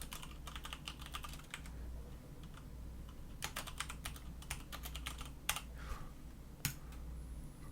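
Quiet typing on a computer keyboard, with scattered clicks, short bursts of keystrokes and a few firmer presses, heard close and alone against a low background hum.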